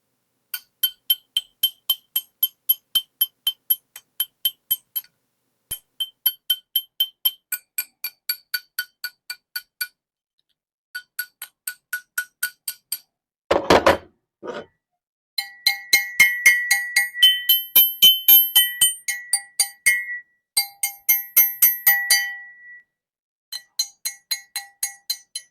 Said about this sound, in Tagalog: Checkin natin kung gaano ka-solid yung aluminum niya. Dapat solid yung tunog. Pero kung matining yung tunog, alam na. Pukpuk test.